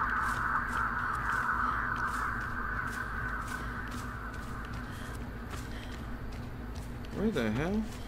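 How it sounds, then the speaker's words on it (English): Crows in Dead by Daylight caw in a brief burst near the end, after a long stretch of steady ambient game hum and background noise. "Was that me disturbing the bird?"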